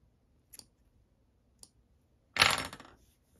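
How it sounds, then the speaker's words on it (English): A few faint clicks, then a short sharp snip of scissors cutting through steelhead fly-tying fibers close up. "I'm going to take my scissors and cut it in half"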